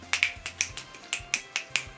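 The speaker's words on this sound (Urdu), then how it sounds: "اس خیال کے آتے ہی چٹکی بجائی۔" Crisp finger snaps near a baby, about nine sharp clicks in a loose even rhythm, close and clear with no talk.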